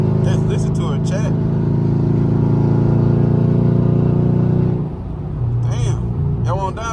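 Catless straight-piped Camaro SS on a highway, its exhaust a loud, steady low drone from inside the car with windows up, dropping in pitch near the end; a voice talks briefly over it at start and finish.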